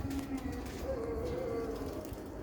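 Sialkoti pigeons cooing in low, soft, drawn-out tones over a steady background noise.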